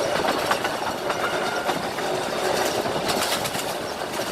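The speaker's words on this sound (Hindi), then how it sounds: "ट्रेन का रेजिडेंशियल एरिया के साथ साथ भागने से जो साउंड पैदा होता है वो मुझे बहुत पसंद है।" Train speeding past a residential area near Lahore, Pakistan, a continuous close roar of rolling wagons with rhythmic clickety-clack and faint wheel squeal, no voices.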